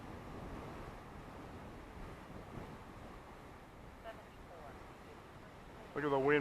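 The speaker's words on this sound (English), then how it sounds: "Look at the wind blow it." Strong wind blows along an ocean shore near a twin-engine plane, a steady broadband rush and buffeting surf noise running throughout, with a brief voice near the end.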